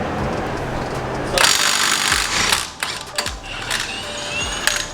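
A Milwaukee impact wrench with a 36mm socket loosening lug nuts on a Skyline R32, short loud rattling hammer bursts followed by clanks and metallic knocks as the nuts come free, close up.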